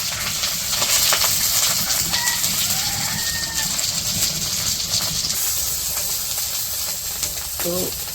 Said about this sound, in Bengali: এই শুটকি হইতেছে কচু পাতার মধ্যে পেঁচিয়ে এখন ভাজবো